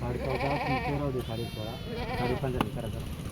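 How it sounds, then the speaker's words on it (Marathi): Goats at a livestock sale bleat loudly and close by, several overlapping wavering cries mixed with people talking. "सात शेळ्या काढलेल्या आहे मित्रांनो"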